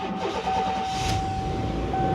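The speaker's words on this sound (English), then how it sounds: "Got a bit of a sound, and I think it's that dead spot in the alternator." A van engine running after a new alternator was fitted, a steady close idle with a thin constant whine riding over the rumble, no talking.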